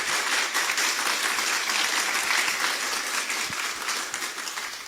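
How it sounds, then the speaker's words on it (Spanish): An audience applauds a panel of women engineers, a sustained wash of clapping from a crowd that holds strong and then tapers slightly toward the end. "para ellas pido un clamoroso aplauso"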